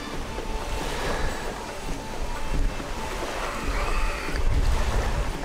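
Waves wash steadily onto a hotel beach in Hurghada, Egypt, surging louder toward the end, with wind buffeting the microphone.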